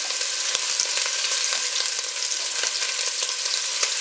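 Loud, steady sizzling and crackling of meatballs frying in hot oil in a pan, with a few sharp pops and no voices.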